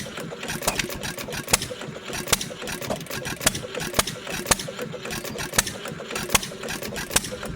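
A Stover hit-and-miss engine runs close by, firing with sharp irregular pops and bangs every half-second or so over a chuffing mechanical rumble.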